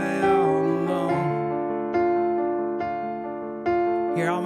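A piano plays slow broken chords, notes ringing and sustaining as each new chord is struck, about five gentle attacks in a few seconds.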